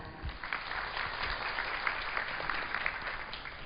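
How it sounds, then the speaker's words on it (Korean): A seminar audience claps after a speaker finishes a talk at a Korean malware-analysis conference, dense steady applause throughout without a break. "다시 한번 큰 박수 부탁드리겠습니다"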